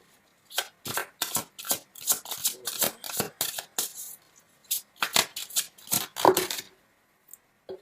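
A deck of tarot-style cards being shuffled and handled, with quick papery flicks and slaps in irregular bursts, close and fairly quiet, alone without talk.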